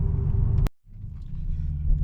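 A Mercedes CLK 500 convertible with the top down gives a loud, steady low engine rumble, cut briefly by a short dropout before the deep drone resumes.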